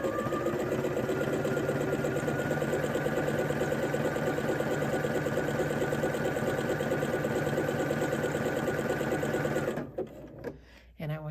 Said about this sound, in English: you are going to use a zigzag stitch for this, a narrow zigzag stitch.